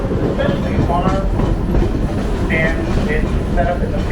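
BR&W No. 60 pulling an excursion train near Flemington, New Jersey, with a steady, loud rolling rumble and rhythmic clickety-clack of wheels over rail joints throughout.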